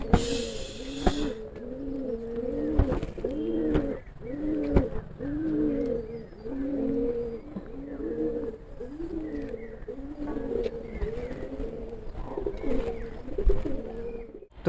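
Pigeons coo steadily in repeated rolling phrases at a pigeon flying tournament at a home loft, several birds overlapping close by through the whole stretch, with a few sharp knocks and rustles.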